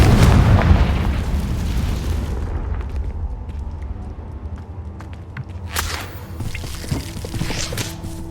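A Confringo fire spell explodes in Hogwarts Legacy, a loud booming blast at the start that rolls off into a rumbling decay, followed by scattered crackles and a second sharper burst partway through.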